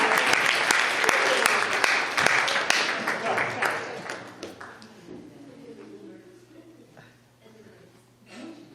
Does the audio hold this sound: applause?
yes